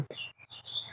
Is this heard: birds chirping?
yes